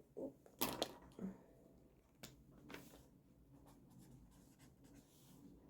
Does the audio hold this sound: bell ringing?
no